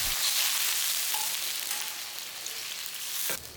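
Pork belly and salted fish stir-fry in a wok with dark soy sauce, a loud, continuous close sizzle that stops abruptly near the end.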